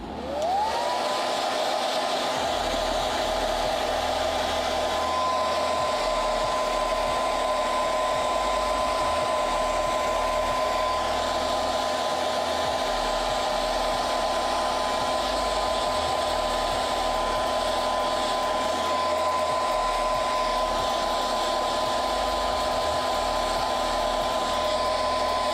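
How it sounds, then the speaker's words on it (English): A hair dryer whirs up and blows continuously for a long stretch, a loud steady airy roar with a fixed motor whine, nearby and without voices. "Now I'm going to use the hairdryer to dry this off"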